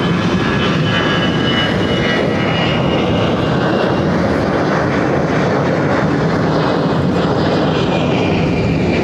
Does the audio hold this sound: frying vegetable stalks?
no